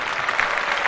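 Dense, steady crowd applause fills the whole moment, a continuous wash of clapping without pauses during a podcast discussion.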